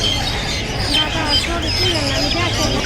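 Chickens and ducks at a busy poultry market give off chirps, clucks and squawks. The birds sound under constant nearby chatter from people bargaining over the fowl.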